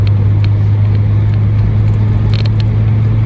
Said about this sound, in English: I think it's got an aftermarket exhaust on it